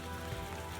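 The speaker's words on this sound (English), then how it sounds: "Wow, it's really raining." Steady heavy rain beats down outdoors beside a dumpster and flower gardens, a dense continuous hiss of drops on surfaces with no breaks, close and even, with no one talking.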